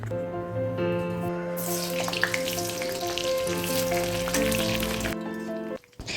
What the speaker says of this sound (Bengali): এবার সেদ্ধ আলুগুলোকে ভেজে নেব